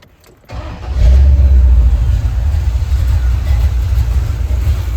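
An Oldsmobile Cutlass G-body engine cranks briefly and catches, settling into a loud, steady low rumble close by.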